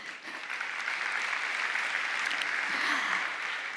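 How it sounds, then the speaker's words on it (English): A conference audience at Blockchain World Abu Dhabi applauds steadily: dense, sustained clapping fills the whole stretch at an even level, with no voices rising above it. "A round of applause, please."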